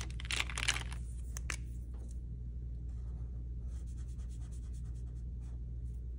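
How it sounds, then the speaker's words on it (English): A marker draws a little sun on paper, with a quick cluster of scratchy strokes near the start followed by a few faint touches over a quiet low hum. "I think since I have clouds, I might even draw a little sun."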